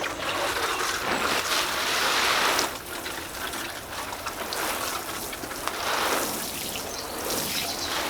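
Leek seedlings watered by hand, a steady close hiss of water spraying onto soil with brief swells and dips, no voices.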